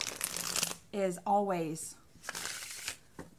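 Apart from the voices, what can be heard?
shuffling tarot cards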